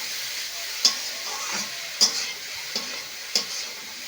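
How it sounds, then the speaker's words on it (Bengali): Carrots frying in ghee in a pan on a gas stove for carrot barfi, a soft steady sizzle with a few sharp scrapes and taps as they are stirred, no talking. "এই ঘি দিয়ে দিয়ে সেই ঘি দিয়ে এই গাজর ভালো করে ভেজে নিতে হবে এইভাবে নেড়ে ছেড়ে ভালো করে ভাজতে হবে"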